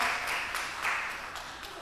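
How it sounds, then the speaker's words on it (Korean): A church youth congregation at a Sunday service applauds a young man just discharged from the military, a steady wash of many hands clapping at moderate volume with no pauses. "우리 한번 일어나서 박수 한번"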